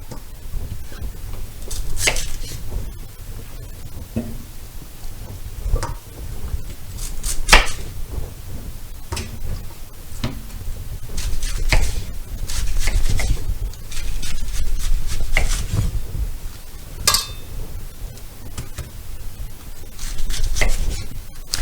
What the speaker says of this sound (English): we will cut the last half of our cabbage